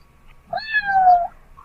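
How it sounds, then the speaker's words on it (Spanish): A domestic cat gives a single clear meow, a rising then falling tonal cry lasting under a second, close and loud against a quiet background. "y del gato?"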